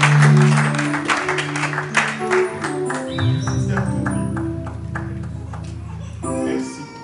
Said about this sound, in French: nous acclamons très fort pour la gloire de Dieu